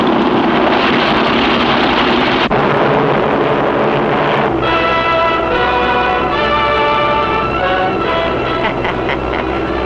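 A dive bomber taking off in the 1942 Superman cartoon "Japoteurs": a loud, steady engine roar that shifts into a rising, multi-toned drone about halfway through and stays close and continuous throughout.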